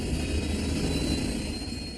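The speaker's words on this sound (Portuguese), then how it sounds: "Ligando o motor 1." A steady, loud aircraft engine drone as engine number 1 starts up on a plane in an air-disaster documentary, a continuous roar and hum with no talking.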